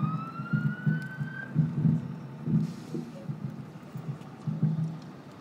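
A fire engine siren wails from a distance as the truck arrives at an accident scene, a rising tone fading in and out over low rumbling traffic noise.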